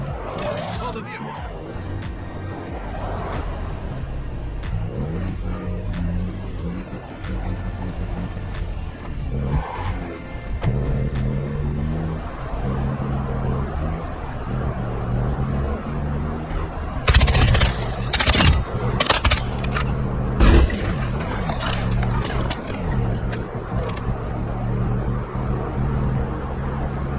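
Game vehicle engine from Call of Duty Modern Warfare 2 DMZ mode, rumbling steadily throughout with skidding tire noise and sharp bursts of impact or gunfire in the second half, mixed with game radio voices.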